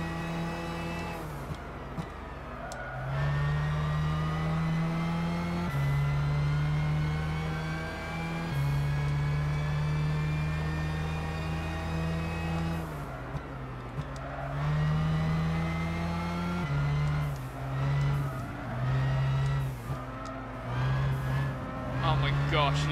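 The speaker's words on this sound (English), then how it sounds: "That is the GT by Citroën race car." Loud GT by Citroën race car engine in Gran Turismo 6 at Silverstone, revving hard through repeated upshifts with rising pitch sweeps and brief drops between gears, steady and close throughout.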